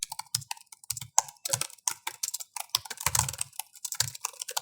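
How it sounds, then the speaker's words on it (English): Laptop keyboard with good key travel typed on quickly, a close, steady patter of soft clicky keystrokes in irregular bursts, with no talk. "There's good key travel and we were able to type super fast on it."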